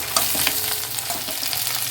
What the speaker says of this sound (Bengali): ডাটাটা আমার ভাজতে কিছুটা সময় লাগবে ততক্ষণে আমার রসুন পেঁয়াজটা সুন্দর ভাজা হয়ে যাবে